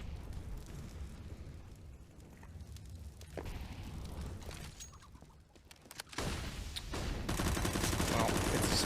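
Pistol gunfire in CS:GO during a professional match on the Inferno map, a quick spray of shots mixed with other game gunfire, explosions and busy match noise, loud and fairly continuous, growing louder toward the end.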